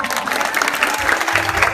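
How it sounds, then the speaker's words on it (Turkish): Short burst of clapping from a small gathering at a symbolic wedding ceremony, close and fairly loud, with voices mixed in under the applause. "Alkışlıyorum."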